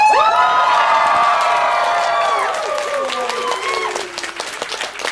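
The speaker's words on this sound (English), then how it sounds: "Applause!" A convention panel audience claps and cheers, with whoops and shouts riding over steady clapping that eases off toward the end.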